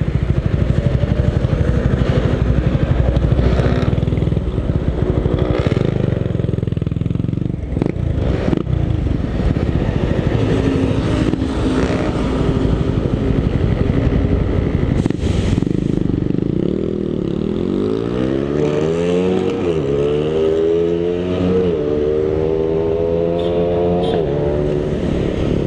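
A Raider 150 motorcycle fitted with a 32mm Koso carburetor idles roughly and loud up close, then revs repeatedly, the engine pitch climbing and falling in several sweeps near the end.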